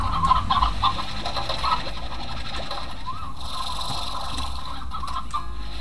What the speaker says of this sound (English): Why are there so many chickens?